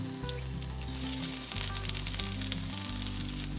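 Eggplant sizzles steadily while it fries in a pan, giving a continuous crackling hiss, with a low musical hum underneath and no voices.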